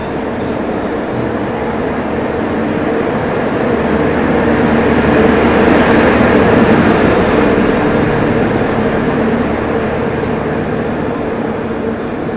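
The Chandigarh Ajmer Garib Rath Express, a newly LHB-fitted train, pulls out of Ambala Cantt station, giving a continuous loud rumble and clatter of wheels and carriages that swells slightly midway and holds steady.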